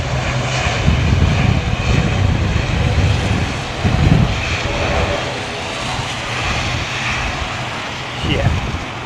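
An airliner landing at London Heathrow in wet weather makes a loud, continuous jet roar with rushing wind and spray noise that swells and eases, while people talk over it.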